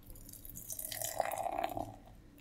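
Beer is poured from a can into a glass, a soft liquid trickle and gurgle rising and fading over a couple of seconds, fairly quiet and close, with no voices.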